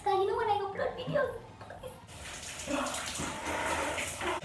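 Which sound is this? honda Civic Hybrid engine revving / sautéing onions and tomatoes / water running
water running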